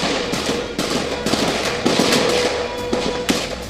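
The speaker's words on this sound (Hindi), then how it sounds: "जवाबी फायरिंग शुरू हो गई।" Security forces return fire at a gate, with sharp, rapid cracks and bursts of gunfire repeating over a constant, noisy background.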